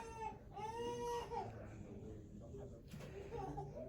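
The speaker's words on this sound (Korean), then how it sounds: "왜 애기들 우는 거야?" Babies cry in a hospital with loud, wavering wails that rise and fall and then break into whimpers, with softer cries continuing behind.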